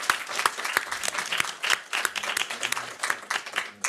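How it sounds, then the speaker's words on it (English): An audience at an academic lecture on prenatal and perinatal mental health gives a round of applause, many hands clapping in an uneven, moderately loud patter that carries on steadily, no talking. "I think first you have to get the proper applause"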